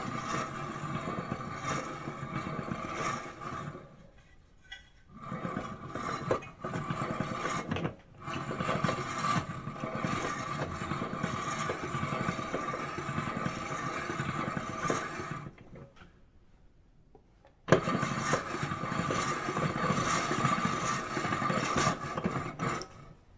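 A hand-cranked pasta machine's rollers grind and rasp steadily as they feed and press pasta dough being rolled for tagliatelle, with two brief pauses, close and moderately loud with no voices.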